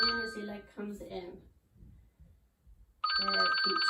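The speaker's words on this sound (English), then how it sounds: "Ignore the phone." A telephone rings indoors, a steady electronic trill heard under a calm voice giving exercise cues, then dropping away for a moment before a second ring starts loud and clear.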